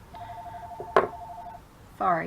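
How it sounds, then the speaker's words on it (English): A telephone rings indoors with a steady electronic tone lasting about a second and a half, followed by a sharp click, then a person starts talking. "That was the phone ringing."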